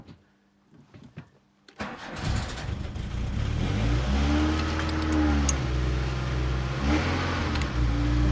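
A Volkswagen Golf GTI Mk2 engine cranks briefly after a quiet pause, catches and fires up, then settles into a rough, slightly fluctuating idle with a couple of small revs, heard close and alone.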